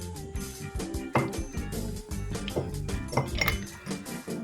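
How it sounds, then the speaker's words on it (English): Small ingredients clatter and clink into a small melting jug, with several quick knocks of pieces landing against the container and a busy run of clinks close by. "I'm just going to pop these into this small melting jug"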